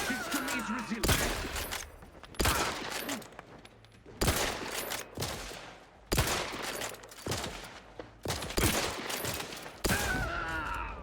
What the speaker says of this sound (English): Oh, the shooting feels a lot better.